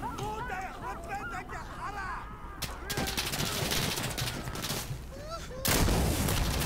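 Sustained gunfire in the tactical shooter game Insurgency Sandstorm, with bursts of rapid shots and louder blasts, steady and dense throughout, with faint voices mixed into the battle noise.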